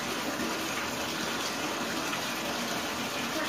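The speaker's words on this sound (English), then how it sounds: "It's just water." Water gushes steadily from a tap or hose while a dog is being bathed, a continuous close rushing splash with no speech.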